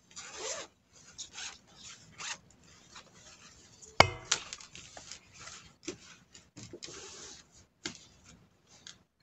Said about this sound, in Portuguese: Vamos abrir o nosso zíper todo aqui,